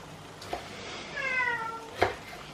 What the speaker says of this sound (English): And there's my lovely cat that you can hear in the background.